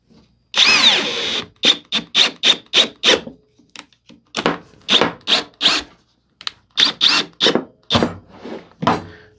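Electric drill driving screws into hardwood: repeated short bursts of high whining motor, about a dozen in quick rhythmic groups with brief pauses, close and loud, and a longer squealing burst at the start.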